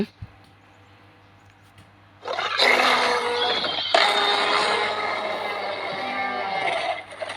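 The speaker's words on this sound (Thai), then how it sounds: "อันนี้จะแตกต่างจาก ทีเล็กทั่วไปด้วย ที่ เสียงคำรามนะครับผม" A T-rex skin in a dinosaur video game lets out a loud, drawn-out roar that bursts in after a quiet start and holds for about five seconds, rough and sustained before fading away.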